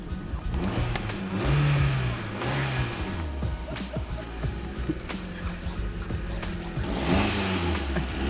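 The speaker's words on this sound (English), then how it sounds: "Rev it." A car engine revs near the microphone, swelling in pitch and loudness several times over a rumbling idle. The revs rise and fall in repeated bursts, with faint voices in the background.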